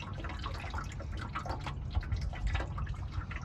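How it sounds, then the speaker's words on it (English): Hot engine oil dripping from a loosened oil filter, a steady close patter of liquid with no pauses. "as soon as this comes out, yeah, you can already see oil dripping"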